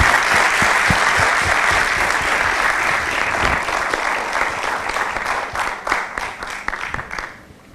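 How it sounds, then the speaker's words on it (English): A large audience at a Toastmasters anniversary celebration claps loudly and continuously, the dense applause thinning toward the end into scattered individual claps. "Can we have a huge round of applause to Mike?"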